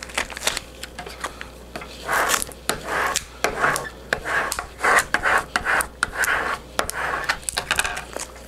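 Transfer mask being rubbed down onto printable heat transfer vinyl makes quiet, close rubbing and scraping strokes, repeated in an uneven rhythm.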